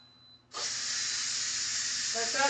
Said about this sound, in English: So we're going to let the steam out of these.